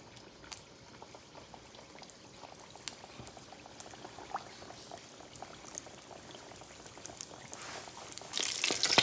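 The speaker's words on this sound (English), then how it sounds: "Just drop it in and let it fry." Meat pies sizzle and bubble steadily in hot oil in a vintage cast iron pan, a dense crackling hiss with scattered pops that grows louder toward the end.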